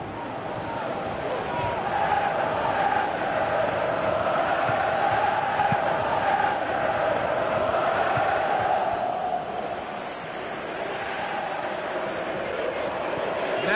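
Stadium crowd noise from a football match in a PS4 video game, a constant dense roar swelling slightly, running beneath a commentator's voice.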